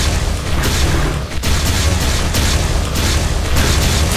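Dense, loud explosions boom continuously in the video game Star Break, blasts overlapping with brief dips, close and heavy with no talk.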